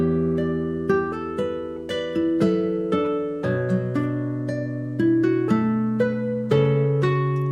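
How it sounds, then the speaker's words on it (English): Layered Spanish guitar parts, built from virtual instruments, play a plucked melody together, with bright, ringing notes struck in a steady, bouncing rhythm. The combined parts sound full and sustained, close up and alone. "Put all those guitar layers together and it sounds like this."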